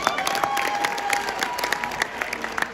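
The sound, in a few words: applause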